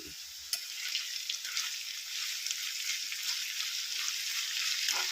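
Ginger frying in oil and being stirred in a pan, a soft, even hiss of sizzling with faint scraping stir strokes, quiet and continuous without speech.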